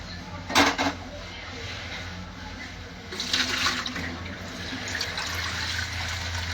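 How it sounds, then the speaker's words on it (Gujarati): Water runs from a tap in a steady hiss that swells midway, following a couple of brief clatters like dishes being handled. "એ પાણી હજી આવે છે"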